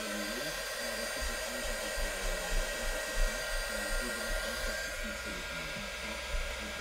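A hair dryer blows steadily up close, drying Brusho colour paint on paper, a constant whirring roar with a faint high whine, while a voice murmurs underneath at times.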